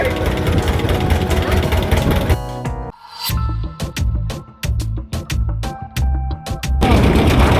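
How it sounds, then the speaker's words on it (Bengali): A boat engine on a river near the Sundarbans coughs into life with loud, irregular sputtering bangs and chugs, then settles into a rough, steady running roar close by. "ইঞ্জিন স্টার্ট দিয়ে দিয়েছে"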